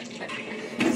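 Water splurts from a struck Big Daddy in the BioShock game, a brief watery gush that swells at the end of a second-long burst.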